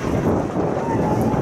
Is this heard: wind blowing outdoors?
yes